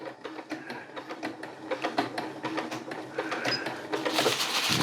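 A sewing machine lock-stitching lightweight tarp fabric for an ultralight backpacking shelter, giving a short, fast, rhythmic clatter of needle strokes heard up close, growing slightly louder toward the end.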